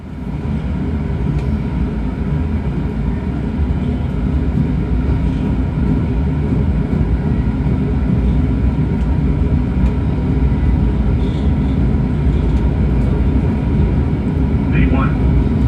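Simulated twin jet engines of a PMDG 777-300ER spooled up during the takeoff roll, a loud, steady low rumble with faint rattles throughout, while voices call out over it.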